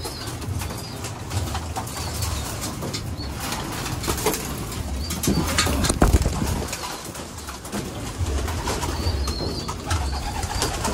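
A flock of hungry pet pigeons coos and flutters close by while feeding, wings flapping now and then amid a steady background hum.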